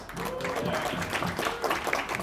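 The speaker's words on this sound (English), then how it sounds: "everybody give Steven a huge round of applause" A tech demo night audience in San Francisco applauds a presenter, a steady, full burst of clapping from a crowd filling the room.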